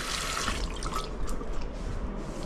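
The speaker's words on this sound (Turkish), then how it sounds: "Ondan sonra gençler şöyle bir elimizi güzelce yıkayalım." Hands are washed under running tap water at a barber's sink before a beard shave, a close, steady splashing hiss with small irregular spatters, no talking.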